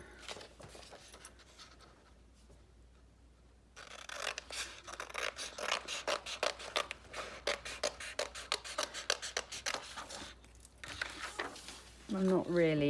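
A quiet stretch, then a steady series of small crisp snips as scissors trim excess paper while scrapbooking, ending with a voice speaking.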